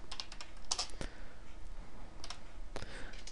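Rapid clicking of keys on a computer keyboard, fast irregular bursts of typing close up with short pauses in between, no voices.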